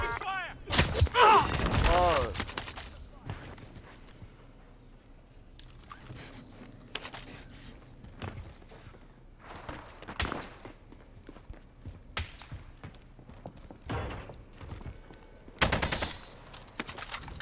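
Gunfire in the shooter game Warzone Pacific, with an AK-47 in play: a loud rapid burst at the start, then scattered sharp shots and thuds at varying distances, with a brief voice exclamation.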